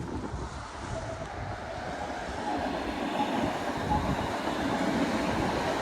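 A light rail train on Toronto's Eglinton line rumbles steadily past nearby, with a continuous roar and rattle and some wind buffeting the microphone throughout.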